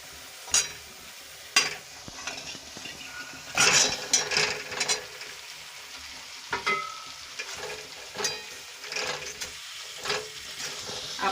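Potatoes frying in a spice masala in a pan are stirred, giving repeated scraping clatters of the spoon against the pan over a steady sizzle.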